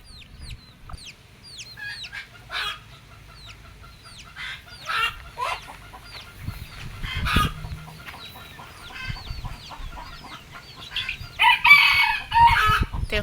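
A broody hen sitting on her eggs clucks repeatedly at close range, with other fowl chirping and calling around her in a farmyard.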